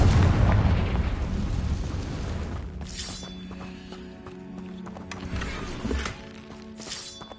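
A Confringo spell blast in a video game produces a loud, deep explosive boom that rumbles and fades. Lighter impacts and crackles follow over a quieter background.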